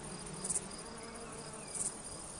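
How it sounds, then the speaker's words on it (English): Grasshoppers chirping amid lavender fields in Provence: two short, bright bursts of stridulation rise above a steady insect hum, about a second apart, with no voices. "Purple haze and a grasshopper serenade."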